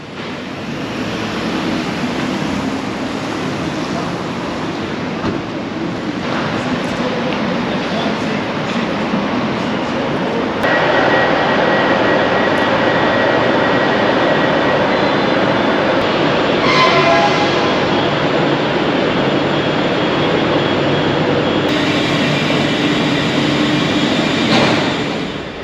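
Train travelling through Glasgow, a loud continuous rumble and rattle of rail travel lasting throughout, with shifts in tone and brief horn-like tones, no talking.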